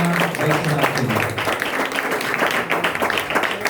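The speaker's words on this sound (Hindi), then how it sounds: "बहुत तालियां भाई शहजाद के लिए" Loud, close applause from a church gathering, a dense burst of many hands clapping that swells and stays steady for several seconds, with some voices faintly mixed in.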